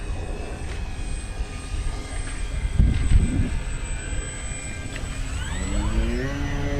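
An FMS Ranger 1800mm RC float plane drones past slowly with flaps down, its electric motor whine rising and shifting in pitch as it passes nearby outdoors.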